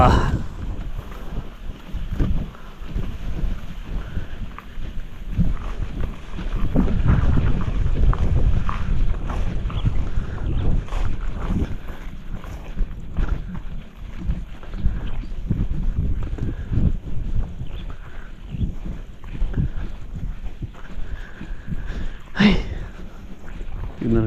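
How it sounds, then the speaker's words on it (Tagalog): A steady boat engine drones throughout, mixed with wind buffeting and rushing water, with occasional voices nearby. "umaandar pa yung makina natin"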